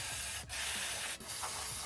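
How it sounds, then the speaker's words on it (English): Aerosol spray lathered onto the rear suspension bolts of a Skoda Superb Mk3 during a coil spring and shock absorber replacement: two short hissing bursts, close and quiet, with no talking. "lather them all in spray"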